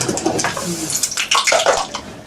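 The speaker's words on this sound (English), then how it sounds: "We put the vegetable in the boiling water." Vegetables dropped into a pot of already boiling water during children's vegan cooking, giving short splashy watery bursts and bubbling, close and fairly loud, with no talk.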